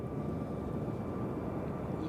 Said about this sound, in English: So this is Baltimore taking off.